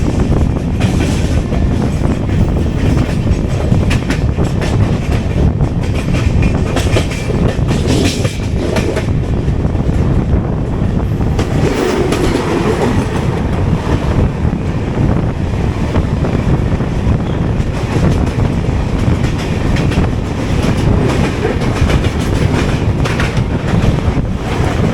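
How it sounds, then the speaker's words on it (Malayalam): A passing train hauled by a WAP-7 electric locomotive, heard as a continuous loud rumble with rushing wind noise throughout, recorded from onboard an AC chair car of a Surat intercity train on the Mumbai line. "ഏതൊരു ട്രെയിൻ നമ്മൾ ക്രോസ് ചെയ്യുന്നുണ്ട്. ഒരു വാപ്പ് 7 വരുന്നുണ്ട്."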